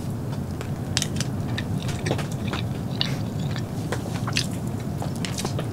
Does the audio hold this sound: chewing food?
yes